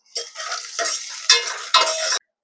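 Poppy seeds, sesame and dried coconut dry roasted in a pan and stirred, giving close, loud bursts of gritty scraping and rattling in several strokes that stop abruptly, with no talk.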